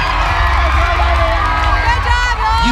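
A dense crowd cheers and whoops for the cheer team Spirit of Texas Royalty at an ACA cheerleading competition, with loud sustained shouting and high-pitched screaming layered together without a break.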